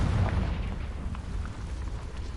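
A Confringo fire-blast spell goes off in the Hogwarts Legacy video game, a dense, rumbling explosive boom with a heavy low-end roar that holds steady for a couple of seconds with no voices.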